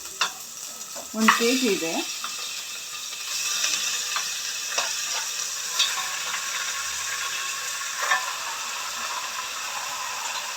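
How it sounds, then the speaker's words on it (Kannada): Washed mutton pieces stirred into fried onions in a hot pan, giving a loud, continuous sizzle with scraping and rattling from the utensil. A brief voice speaks near the start. "ಇವಾಗ ತೊಳೆದಿಟ್ಕೊಂಡಿರುವಂಥ ಮಟನ್ ಹಾಕೋಣ."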